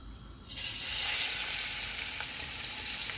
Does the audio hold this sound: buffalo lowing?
no